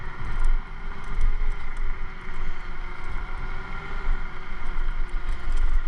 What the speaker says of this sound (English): that's the reason why the scooter sounds the way it does, is because I have the off-roads on